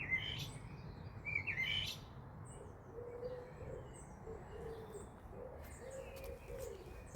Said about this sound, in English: The blackbird is singing its night song.